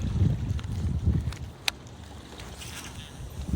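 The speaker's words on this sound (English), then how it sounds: "See that wind, man? It is gnarly." Strong wind gusts around a fishing kayak on open water, a low buffeting rumble that swells and fades, with one sharp knock partway through.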